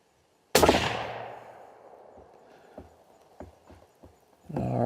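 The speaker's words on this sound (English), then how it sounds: "we'll do a 3-shot group from here" A Howa 1500 rifle chambered in 300 Win Mag fires a single loud, sharp shot that decays in a long echo, followed by faint clicks and handling noises before a second rising burst of noise at the end.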